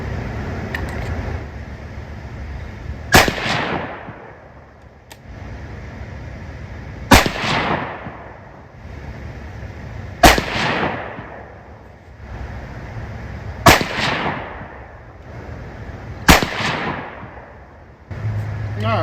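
Five sharp rifle shots ring out from a .223 firing handloaded reloads at an outdoor range, evenly spaced a few seconds apart, each loud crack followed by a rolling echo.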